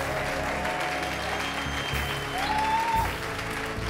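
A church congregation at a Sunday service applauds Jesus with sustained, dense clapping that fills the room evenly for several seconds, with a faint tone and low murmur underneath.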